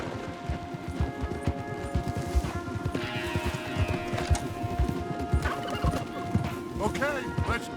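Horses gallop in Red Dead Redemption 2, a rapid, continuous clatter of hooves close by, with a neigh near the end and game voices over the riding.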